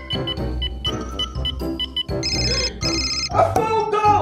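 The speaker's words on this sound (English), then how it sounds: "A phone call!" An incoming call sets off a phone's ringtone, a loud, bright electronic melody of repeated tonal notes that plays on without a break.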